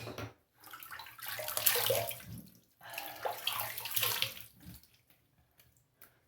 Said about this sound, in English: Let me rinse up and see how it went.